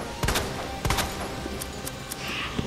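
Gunfire in the Resident Evil 2 Remake first boss fight: two sharp, loud shot bursts early on, then a few fainter thumps and clicks over a low, steady game ambience.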